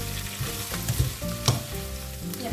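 Onions for pork adobo sizzle and fry in a pan, a steady close crackle broken by a few scraping stirs and soft knocks of a utensil, with no voices.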